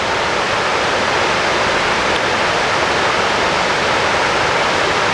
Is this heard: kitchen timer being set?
no